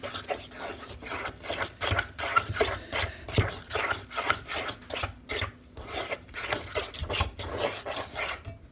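A hand whisk beats buttermilk batter in a bowl with quick, even strokes, making a close, rhythmic scraping and rasping that repeats about twice a second with no talk.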